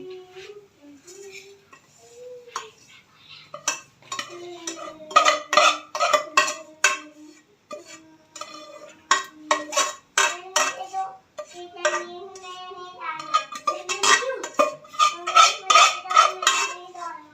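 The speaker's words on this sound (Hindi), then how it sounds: "चने जब हो गई हैं इसको प्लेट में निकाल लेती हूँ।" A spoon clinks and scrapes against a metal pan as fried chickpeas are moved onto a plate, making bursts of bright metallic clatter, with someone talking in between.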